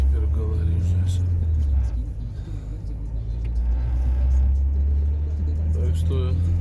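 Inside a car driving on the road in Rzeszów, a low steady engine rumble and road drone fills the cabin, swelling slightly as the vehicle accelerates, with someone talking over it.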